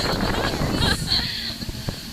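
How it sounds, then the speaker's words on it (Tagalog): Strong wind on Boracay buffets the microphone with a steady roaring rumble, a person talking faintly beneath it. "Sobrang lakas ng hangin dito"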